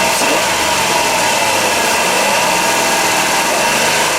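A Dodge Caravan engine, just repaired for a power steering whine and tuned up, runs steady and loud close by with a smooth mid-pitched hum and no talking.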